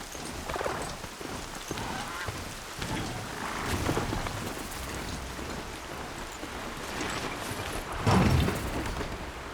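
Steady rain pattering during a walk in Horizon Zero Dawn, a dense continuous hiss with irregular heavier splashes and a louder rumbling burst near the end, no voices.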